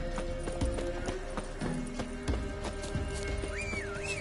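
A horse galloping in the video game Witcher 3, with steady rhythmic hoofbeats thudding close and clear over a busy game soundscape, a brief whinny near the end.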